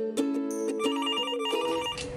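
A telephone rings with a steady, bright electronic trill repeating throughout, close and clear with no voices, like a call coming in to a city information line.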